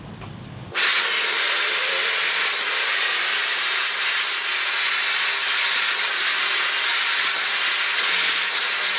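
A hair dryer blow-dries a Mohican crop cut fade haircut at a barbershop. It switches on after a brief moment and then blows loudly and steadily, with no talking.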